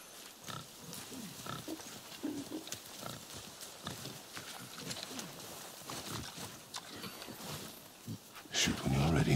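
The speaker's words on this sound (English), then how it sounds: "I hear your animal ahead. I knew it was a boar." Wild boar grunting in God of War, a series of short, low animal grunts and snorts scattered through a busy game soundscape, with a louder burst of noise near the end.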